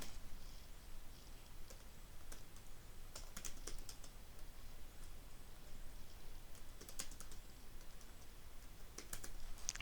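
Java code being typed on a computer keyboard, with irregular bursts of quick key clicks over a steady low background hiss and no talking.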